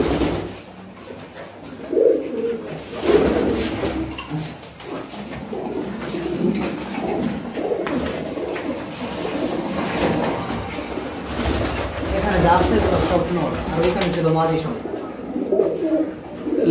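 Pigeons at a rented-house pigeon farm in Narsingdi coo softly and steadily nearby, with wing flutters and rustling, while people talk over the birds.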